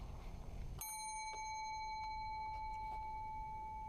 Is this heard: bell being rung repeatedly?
yes